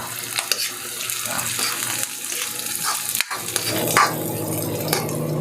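Ginger and onion frying in a pan, a steady close hiss and sizzle with occasional stirring scrapes and a sharp clack of a utensil partway through.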